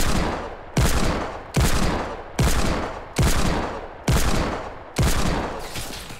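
Repeated heavy gunshots from a hand cannon in a Fortnite Battle Royale fight, seven loud, evenly spaced blasts about a second apart, each decaying before the next.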